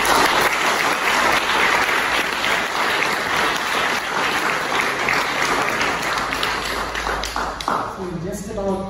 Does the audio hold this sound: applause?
yes